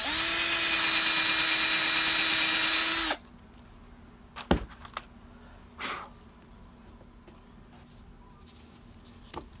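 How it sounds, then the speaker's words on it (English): A power drill bores into a wooden picture frame with a loud, steady high-pitched whine for about three seconds, then stops abruptly, followed by a few sharp knocks and light handling taps against the wood. "flip it over, drill about 2/3 of the way up from the edge"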